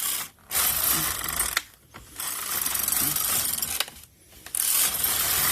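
An LK100 knitting machine knitting a test on a few center needles: loud mechanical clattering carriage passes with ratcheting and metallic clicks, broken by three short pauses between runs, close by and without voices.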